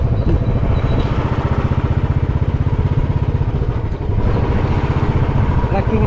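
A motorcycle engine putters with a steady low rhythmic thrum throughout, close by, with no talking over it, on a hilly back road to Kolli Hills.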